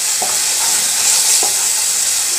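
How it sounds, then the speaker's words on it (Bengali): Spices sizzle steadily in a hot pan, a constant bright frying hiss with two soft scrapes of stirring, close and alone. "মশলাটা ভাজা হোক"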